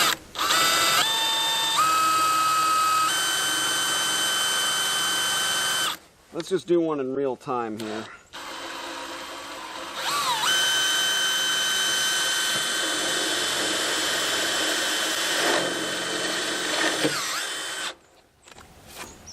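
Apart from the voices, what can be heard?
power drill drilling through thick steel trailer frame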